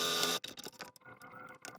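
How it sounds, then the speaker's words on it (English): Sewing machine stitching closed the edge of a fitted fabric face mask, a brief burst of fast mechanical whirring followed by quieter rattling clicks and handling noise. "Sew it closed along the edge."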